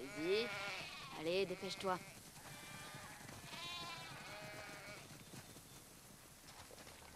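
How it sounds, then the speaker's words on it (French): Sheep bleating in The Last of Us Part II, several nearby bleats in a flock at a barn, loud at first then softer and overlapping, with someone talking briefly over them. "Oh, t'as vu un peu tous ces moutons?"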